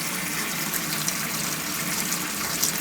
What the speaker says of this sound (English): Now I've opened the kitchen sink